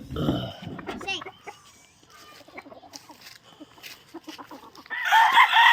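Chickens in a small backyard coop cluck and cackle close by, mixed with a person's voice at the start and a louder burst of fowl noise near the end.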